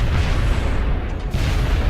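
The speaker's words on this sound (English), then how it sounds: "And now I take damage from the explosion as well." An explosion in the video game XCOM: Enemy Within booms loudly and close, a heavy low rumble that swells, dips briefly and rolls on without speech.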